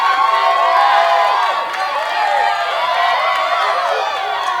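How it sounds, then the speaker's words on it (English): A lively crowd cheers and whoops, with high excited voices shouting together at a loud, sustained level. "I'll give myself a round of applause"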